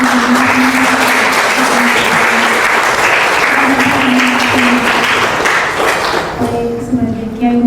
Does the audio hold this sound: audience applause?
yes